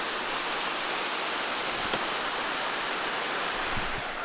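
Steady, broadband rushing of a waterfall at Devils Den State Park, heard from outside a 1930s Civilian Conservation Corps cabin, a constant unbroken roar with no voices.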